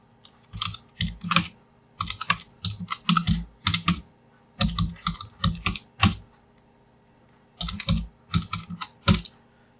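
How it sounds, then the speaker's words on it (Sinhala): Someone types a Python comment on a computer keyboard, producing close, crisp bursts of key clicks in irregular flurries with short pauses, and no speech. "මොන හරි ටයිප් කරා ගියමුකෝ."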